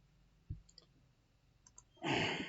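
Mouse clicks on a save button in SAP S/4HANA ERP software: a few faint, sharp clicks spaced apart, then a louder rushing burst near the end, with no talking.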